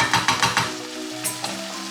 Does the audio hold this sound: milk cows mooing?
no